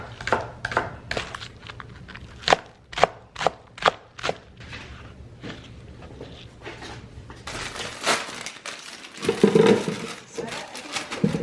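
A knife chopping vegetables such as celery on a chopping block in a home kitchen, a run of sharp, evenly spaced chops, then softer scattered knocks and a louder burst of handling noise.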